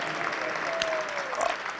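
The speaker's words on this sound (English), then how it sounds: "a round of applause for all these three" A crowd applauding steadily, a dense patter of clapping hands throughout, with a faint whistle-like tone drifting through.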